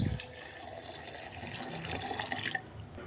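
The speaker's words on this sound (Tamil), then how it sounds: "தண்ணி 2 டம்ளர் அளவுக்கு ஆட் பண்ணிக்கலாம்." Water splashes and gurgles steadily as about two tumblers are poured into a mixer jar with beetroot, a continuous liquid rush lasting a few seconds.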